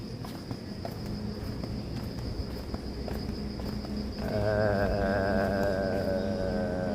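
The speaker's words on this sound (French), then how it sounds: "Non c'est plus des grillons la nuit. Là il y en a un là. On l'entend." A single cricket chirps at night in Nachi-Katsuura, Japan, its thin steady trill running close and continuous over low ambient rumble, with a louder buzzing drone joining partway through.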